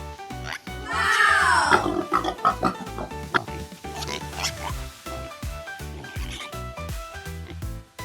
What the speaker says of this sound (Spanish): Esto es un cerdo.